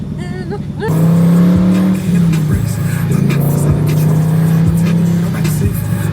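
Car exhaust captured by a mic clipped right onto the tailpipe: quiet at first, then the engine suddenly roars in very loud and close, holding a rough low drone with small rises and dips as it revs.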